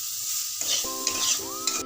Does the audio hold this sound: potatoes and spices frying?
yes